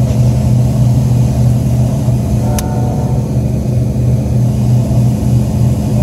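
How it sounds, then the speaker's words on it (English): An HVAC furnace blower motor runs with a steady, loud mechanical hum and whir that holds constant throughout, with one brief high click partway through. "This is the blower."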